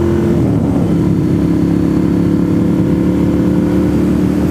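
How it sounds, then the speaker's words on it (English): Motorcycle engine droning loudly and close while ridden near Lake Chatuge by a first-time rider, a steady low throbbing hum that holds continuously without pause. "It's my first time on a motorcycle."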